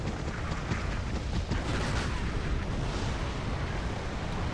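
Mortar shells exploding in the war strategy game Wargame Red Dragon, a continuous dense rumble of blasts and booms blending into one another at a steady, moderately loud level with no clear breaks.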